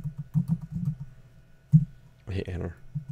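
Quiet, close clicking of keys on a computer keyboard comes in a short run of taps, followed by a brief spoken phrase.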